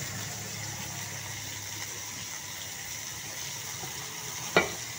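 Onions and tomatoes fry in hot oil, giving a steady, close sizzle over a low background hum, with one sharp clink of a utensil near the end and no talking.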